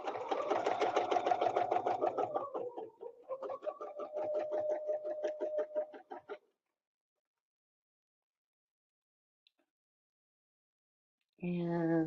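A quilting machine stitches rapidly during ruler quilting, its fast even needle hum running for about six seconds with a brief pitch shift, then stopping to silence before a short burst of sound returns at the end.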